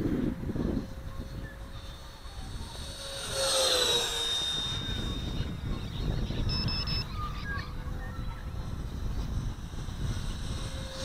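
A 980mm Eurofighter model jet with a 64mm Mercury electric ducted fan on a 4S battery flies overhead with a steady, high whine that rises and sweeps as it passes, over continuous wind rush outdoors.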